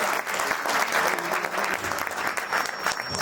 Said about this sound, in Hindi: एक बार जोरदार तालियां बेटा